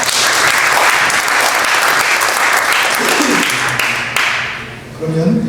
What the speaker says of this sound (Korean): 한번 뜨겁게 박수하겠습니다